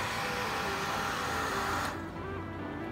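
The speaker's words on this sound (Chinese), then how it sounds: "水泵的那个摩托的操作的声音。" A TSUNAMI CMS-IPC home water pump motor runs with a quiet, steady whirring hum heard close up, continuous and fairly faint, its tone shifting slightly partway through, with no talking.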